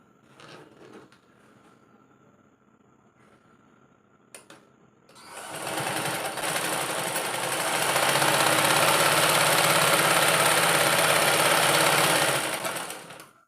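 A sewing machine stitching fabric for a pencil pouch with a zipper, starting after a few quiet clicks and handling sounds, then running as a loud, steady whirring hum for about eight seconds before stopping.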